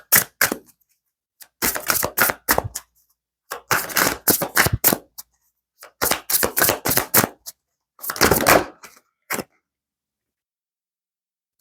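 Tarot cards shuffled in quick riffling bursts, several loud clusters of crisp slaps and flutters separated by short pauses, close and alone with no talking.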